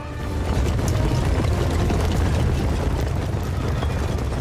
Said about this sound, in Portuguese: Chega de canhão atirando na gente